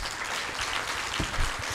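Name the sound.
audience applause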